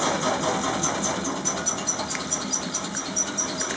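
A pedal-powered washing machine runs fast, giving a steady mechanical whir and rattle with a faint rhythmic ticking, loud and close and continuous with no talk.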